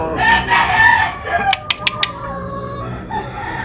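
A blue face gamefowl broodcock crows loudly up close, one long cock-a-doodle-doo followed by a few sharp short calls and quieter farmyard sounds, with no speech.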